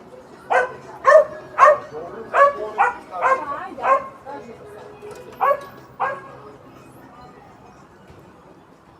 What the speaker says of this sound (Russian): Собачка лает.